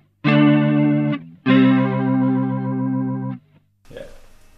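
Guitar chords played through an Arion stereo flanger pedal with the rate set to maximum, two sustained distorted strums with a fast swirling sweep, close and loud, followed by a brief soft voice.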